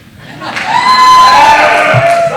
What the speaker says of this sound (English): There's a crowd back there that is so loud and wonderful.